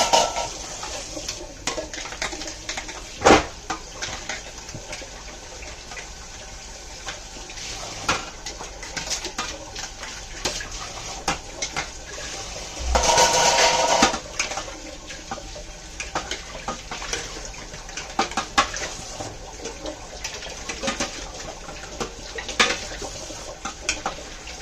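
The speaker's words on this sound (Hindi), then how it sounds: "फिर मैं सिंक में बर्तन डालती हूँ।" Dishes being washed in a home kitchen sink under running water, with a steady rush from the tap and scattered clinks and knocks of utensils, one louder splashing burst in the middle.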